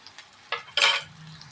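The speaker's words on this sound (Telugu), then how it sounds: "ఇదండి పోపు ఎగుతూ ఉంది" Tempering (popu) with onions and dried red chillies frying in a pan for palak dal, giving a few short bursts of stirring and sizzle over near silence; close and fairly quiet.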